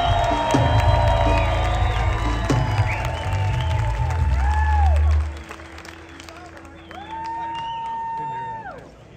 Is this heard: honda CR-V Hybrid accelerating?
no